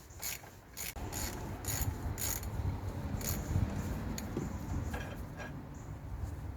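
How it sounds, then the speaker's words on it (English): A half-inch ratchet undoing bolts on a Rover 45 engine, giving close, fairly quiet bursts of rapid clicking that repeat in short spurts throughout. "Good half inch ratchet is what you need for this sort of job"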